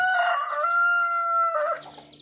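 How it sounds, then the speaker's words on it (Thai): Black chickens crowing, a strong drawn-out cock-a-doodle-doo that trails off into softer clucking, close and clear with no talk. "นี่นะคะลูกไก่ดำ"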